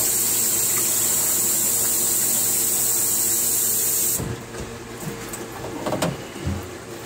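High-pressure water spray rinsing degreaser foam off the aftercooler of a Cummins Marine QSB 6.7 engine, a loud steady hiss that cuts off after about four seconds, leaving faint dripping and handling noises.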